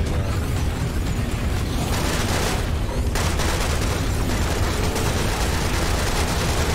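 Sustained AK rifle fire in the shooter game Serious Sam Siberian Mayhem, a dense, loud, unbroken barrage of rapid shots mixed with booming impacts and rumbling blasts.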